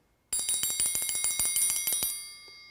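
A metal triangle rings in a rapid, steady tremolo of about a dozen even strikes, bright and close, then lets its shimmer fade.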